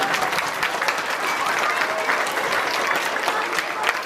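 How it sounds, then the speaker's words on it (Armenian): An audience claps at a concert in a village hall, with dense, sustained applause from a full crowd that holds steady for the whole stretch. "Որպես սկիզբ եկեք մի հատ ծափահարենք։"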